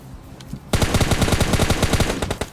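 Automatic gunfire from a PUBG Mobile Lite match: after a quiet start, a sustained rapid burst of loud, close shots rattles on for nearly two seconds with no talking.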